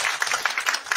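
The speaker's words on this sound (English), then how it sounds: "Give them a big clap." Audience applause at a Sunday church service, steady broadband clapping from a congregation lasting about a second, fairly close and continuous.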